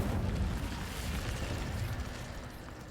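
Incendio fire spell cast in the Hogwarts Legacy game, a dense, roaring whoosh of flame that stays loud and steady throughout, with no talk over it.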